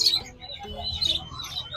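Birds at an outdoor pet market in Pallavaram give high, quick chirps and tweets that repeat throughout, set against a low, steady crowd murmur.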